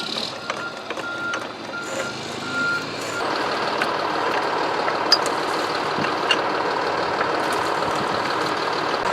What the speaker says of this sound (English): Yay, propane truck is here, right after winter ends.